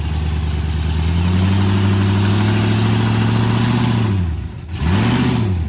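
A truck engine runs while the truck pulls another truck, loud and close, revving up and holding a strained drone, then dipping away and revving again near the end, with no talking.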